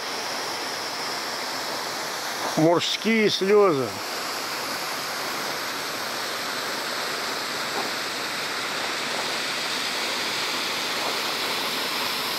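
A mountain waterfall near Lake Ritsa in January roars as a steady, broad wash of falling water throughout, with someone briefly speaking over it early on.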